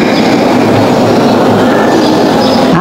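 Close, loud rumble of a train rolling past, steady wheel noise with rhythmic clickety-clack over the rails and a faint squeal, heard alone without talk.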